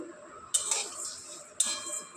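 Vermicelli stirred in ghee in a pan (kadai) for quick payesh: two sharp metal clinks of a utensil against the pan, each followed by a soft sizzling hiss, with no talking.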